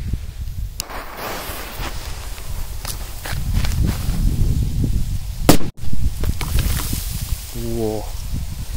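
A homemade Kastar 6 firecracker goes off outdoors with one sharp, loud bang after several seconds of shuffling, footsteps and rustling nearby; people talk through parts of it.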